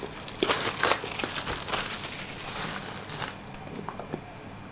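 Packaging of a OnePlus 8 Pro box crinkles and rustles close up as it is opened, in busy bursts that ease into quieter handling.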